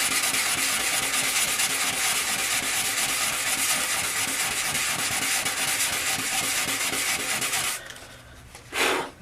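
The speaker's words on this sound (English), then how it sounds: "We're going to come back in, we're going to sand it again." Coarse 100 or 60 grit sandpaper rubbing over a Suncure resin surfboard repair, a loud, steady, continuous rasping scrub for several seconds before it stops abruptly, followed by a brief softer swipe.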